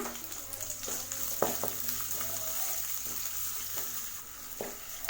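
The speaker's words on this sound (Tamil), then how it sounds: "அதில் சேர்த்துட்டு வெங்காயத்தை நல்லா வதக்கி விட்டுக்கோங்க." About fifteen chopped small shallots sauté in oil for a fish curry, a soft continuous sizzle broken by several sharp scrapes and stirs of a spoon against the pan, no voices.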